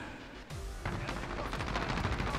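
AK-47 gunfire in a first-person shooter video game: a short pause, then rapid automatic bursts rattling loud and close, the shots running together in a fast, continuous stream.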